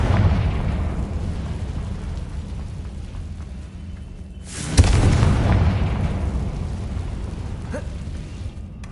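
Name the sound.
Confringo explosive spell blast in Hogwarts video game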